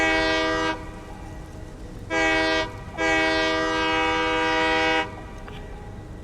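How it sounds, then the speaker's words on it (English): A loud, steady train horn in the video game Satisfactory blasts three times, a short blow, then a brief one, then a long sustained chord, with a low rumble underneath. "Train horn"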